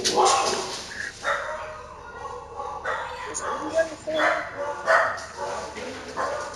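Dogs bark and yip in short irregular bursts, moderately close and mixed with a person talking over them.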